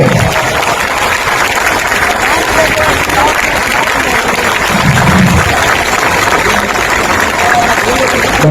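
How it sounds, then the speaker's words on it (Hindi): A crowd at a political rally claps steadily and loudly, a continuous wash of applause with some voices mixed in. "जोर से ताली बजाइए।"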